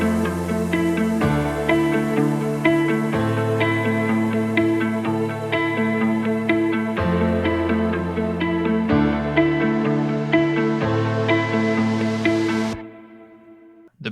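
A deep house piano melody layered with guitar, playing together as a full, dense loop of repeating chords and notes for roughly thirteen seconds before cutting off abruptly into a short fading tail.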